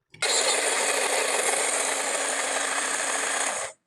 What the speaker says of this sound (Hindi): अब हम इन्हें ग्राइंडर में ग्राइंड कर देंगे।